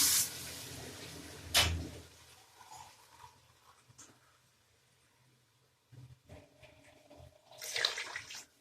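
Water splashes and pours into a cooking pot of spiced oil for chickpea pulao in short bursts, with quieter gaps between them and a louder gush near the end.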